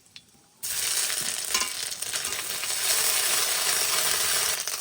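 Bay leaf, panch phoron five-spice and a little ginger hit hot mustard oil and burst into a loud, steady sizzle after a brief quiet start, crackling on close-up with no talk over it.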